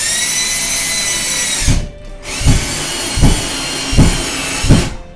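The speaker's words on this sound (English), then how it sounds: "Go ahead and use the drill to get this in." Power drill driving a screw into a wall for a mop and broom holder: a steady high-pitched whine with several short bursts of thudding as the screw bites, a brief pause near the middle, loud and close.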